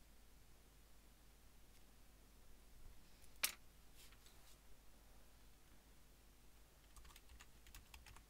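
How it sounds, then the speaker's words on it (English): A few sparse, faint keystrokes on a computer keyboard in a quiet room, including one sharper, louder click, with scattered light taps toward the end. "Here's where I copy the ampersand sign off the 7 key on my keyboard."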